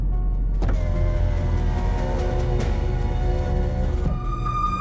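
A car drives steadily inside a film scene, a constant low engine rumble filling the cabin while an electric motor whines briefly, like a power window moving, with no talking.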